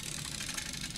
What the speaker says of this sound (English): We'll show you how fast and high quality the motor is.